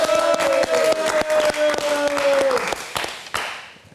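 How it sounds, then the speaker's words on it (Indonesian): Applause from a live talk show's studio audience, scattered claps and taps mixed with crowd noise, under a sustained tone and voices that fade near the end. "Kita berikan tepuk tangan."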